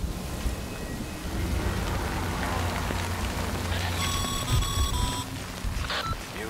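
Rain falls steadily in the video game Death Stranding, a constant hiss with low rumble underneath, joined midway by brief bright electronic chiming tones before the downpour carries on alone.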